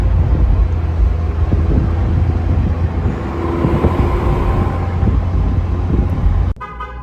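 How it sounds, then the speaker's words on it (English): A McLaren 720S Spider's deep, steady engine rumble with exhaust roar runs continuously and close in a parking garage, then cuts off abruptly near the end. "listen to like the sound of the engine."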